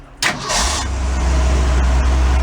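A rusty Ford E100 pickup engine cranks briefly and catches, then settles into a steady, loud low idle close by, with no talking.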